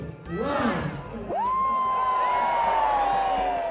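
A crowd at a Portsmouth vintage Christmas celebration countdown cheers and whoops, a short burst of shouts followed by a sustained rising whistle-like tone over the crowd noise.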